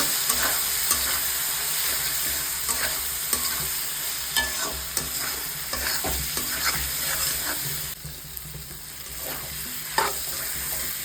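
A spice paste with turmeric, coriander and cumin powder is stir-fried in a pan for a dried-fish curry, a dense continuous sizzle with repeated scraping strokes and clicks of the spoon, no voices.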